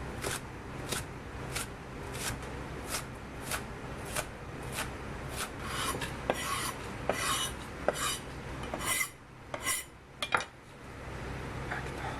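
A knife chops Chinese cabbage leaves on a board in a quick, even series of crisp knocks, around one or two a second, close and clear with a slight scraping rub between strokes.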